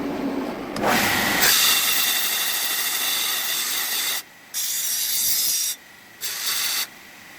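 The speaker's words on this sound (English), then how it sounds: "the rest what we'll do is we'll cut it off with a cutoff wheel, and we'll just clean it up on the flat" Power tools trim a twin-turbo Mustang's metal charge pipe, a bandsaw and cutoff wheel giving a loud, steady grinding whine that cuts out briefly twice and resumes, close and without talk.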